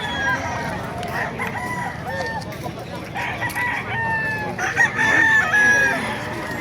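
Several roosters crow one after another amid clucking chickens at a busy Bocaue poultry market in the Philippines, the calls fairly close and overlapping, with faint voices in the background.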